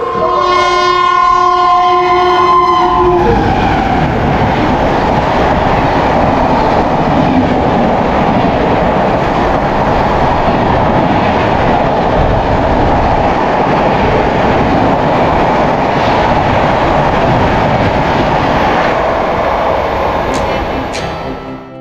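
The Dhauli Express passenger train between Howrah and Puri, with a loud horn blast in the first few seconds followed by a continuous close rumble and clatter of the moving train that lasts to the end.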